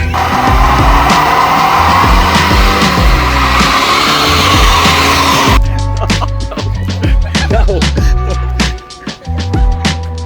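A borrowed truck does a loud, sustained burnout with tires squealing and the engine roaring nearby, then the squeal cuts off into revving and rattling mechanical noise.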